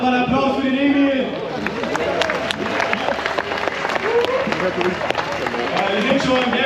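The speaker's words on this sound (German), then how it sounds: "Macht mal einen Applaus für den Emil." A crowd claps at the start of the Mammutmarsch Berlin 2022 hiking event, the steady applause continuing throughout amid mixed chatter, with a voice speaking over it.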